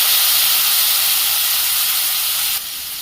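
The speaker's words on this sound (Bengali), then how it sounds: "অল্প জল দিয়ে আমি নেড়ে নেব।" A small amount of water hitting a hot pan, giving a loud steady steamy hiss that drops abruptly near the end, no voices.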